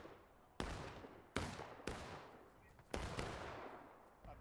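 Musket volleys ring out in a Civil War battle in War of Rights, four sharp broadband reports spaced irregularly over a steady crackle of distant fire.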